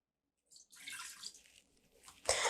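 One cup of water is poured into an Instant Pot holding a steamer basket of broccoli, a short soft splash that trails off, then a louder gush of liquid at the end, with no talking.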